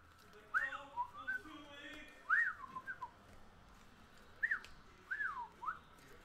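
A person whistles a series of short, bright gliding notes in separate bursts with pauses between, fairly close in a quiet room.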